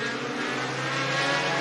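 A race car idling and revving on an ice track as it turns around after a spin, its engine a steady, loud, continuous drone close by with no talk.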